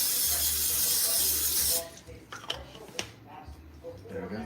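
Spray can hissing into a big cooking pot for spaghetti, a steady close hiss lasting under two seconds before it stops, followed by quieter kitchen clatter and light handling noises.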